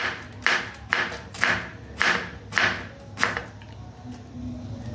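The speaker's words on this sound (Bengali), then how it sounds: "তো এখন সাইড দিয়ে এইভাবে আমি কুচিয়ে নেব," A knife slices young cabbage leaves on a cutting board in six evenly spaced, crisp chops about half a second apart, close and clear, then stops.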